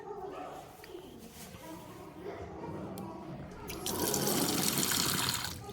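Mineral water running from a dispenser tap at a sanatorium in Saryagash, offered at three temperatures, a steady close stream that grows louder near the end, with talk around it.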